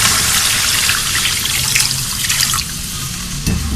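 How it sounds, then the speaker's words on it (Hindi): Water poured steadily into a pot of fish pulao with yogurt-marinated fish, a continuous splashing rush that holds close and loud for a few seconds. "तो ये मैं पानी डाल रही हूँ इसमें।"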